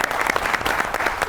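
A burst of steady applause from a studio audience during a talk show interview, dense clapping filling the whole moment, fairly loud and close.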